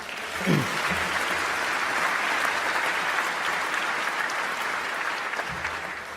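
Sustained audience applause at Shaquille O'Neal's NBA Hall of Fame induction ceremony, a dense, even wash of clapping from a large crowd, with a brief voice at the start and again near the end.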